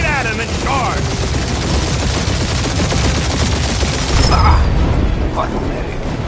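Ship guns fire in the space shooter Marvel's Guardians of the Galaxy on PS5: loud, dense, sustained rapid gunfire with heavy low rumble and occasional booms.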